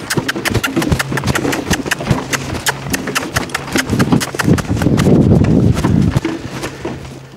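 A horse lopes around a round pen, its hooves striking in a quick, steady clip-clop rhythm that stays close and loud, with a rougher, noisier stretch near the end.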